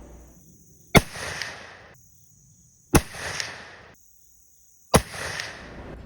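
Three sharp, loud muzzleloader shots with Hornady 300-grain SST bullets over three 777 Fire Star pellets, each a booming crack followed by a short rolling echo, spaced about two seconds apart.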